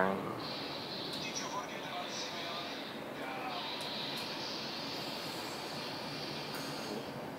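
An airplane flown in GTA5 on PS4 from a first-person view, a steady engine drone and whine holding throughout at low level, with people talking over it.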